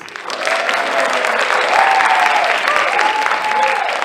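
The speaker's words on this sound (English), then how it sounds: "One big round of applause to everybody" Sustained applause from a concert audience at a music fundraising event, steady and fairly loud throughout, with a faint melodic tone running beneath the clapping.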